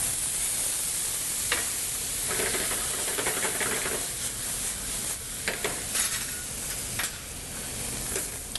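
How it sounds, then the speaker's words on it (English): White wine hits a hot pan of rice, spinach and chopped tomatoes, giving a loud, steady sizzle and hiss with intermittent scraping as the mix is stirred, close up, with no talking. "Then we'll just stir it quickly up"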